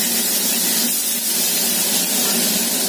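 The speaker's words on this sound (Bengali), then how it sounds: "আলুটাকে একটু ভেজে নিই" Thin potato strips fry in mustard oil with nigella seeds, giving a steady, dense hiss and crackle that stays loud and even throughout, with no talking.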